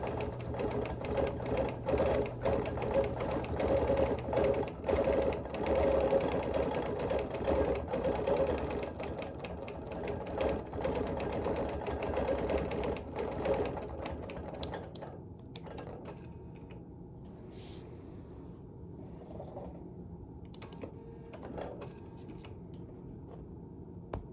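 A sewing machine stitching free-motion quilting on a Baltimore album quilt, running in a steady rapid whir for about fifteen seconds, then stopping and starting in short bursts with quieter handling sounds between.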